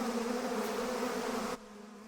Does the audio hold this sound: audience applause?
no